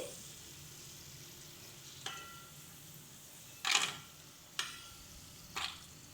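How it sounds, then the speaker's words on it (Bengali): Raisins and dry fruits frying in ghee, a soft low sizzle broken by a few sharp stirring scrapes and spatters, close and otherwise quiet. "ভাজতে ভাজতে কিন্তু সুন্দর আমাদের সমস্ত কিশমিশগুলো ফুলে গেছে"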